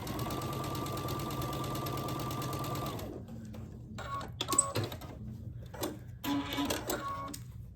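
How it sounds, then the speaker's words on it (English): A sewing machine runs a quarter-inch seam in one steady whirring burst for about three seconds, then stops, leaving scattered clicks and handling noises of fabric and thread. "So I'm sewing it at 1/4 inch."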